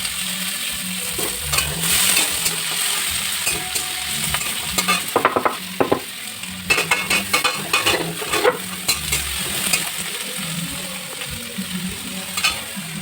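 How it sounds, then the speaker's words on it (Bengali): Onions and green chillies frying in oil in a wok, a loud continuous sizzle close up, broken by repeated scraping and clinking stirring strokes, with no talking. "তেলের মধ্যে দিয়ে পেঁয়াজ আর লঙ্কাগুলোকে আগে ভালো করে ভেজে নিয়ে"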